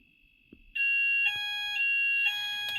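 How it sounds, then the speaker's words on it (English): A fire alarm system sounds during a test, with a steady electronic tone coming on loudly after a soft knock and continuing with slight pulses. "The alarm is going off and the light is on."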